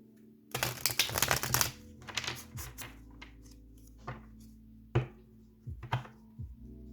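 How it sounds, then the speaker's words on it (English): Crisp flurries of tarot card riffling and snapping, a dense burst followed by several shorter shuffles and light taps, close up and without voices. "I'm going to shuffle a couple times."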